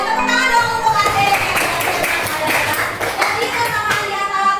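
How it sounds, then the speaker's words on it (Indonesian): A classroom of children claps for a classmate, a brisk burst of overlapping hand claps close by, mixed with a teacher's voice and children's chatter. "Betul sekali, tepuk tangan dong untuk Ade"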